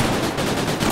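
Gunfire from the video game Gorebox fills a short burst of loud, rapid, closely spaced shots with no talk over it.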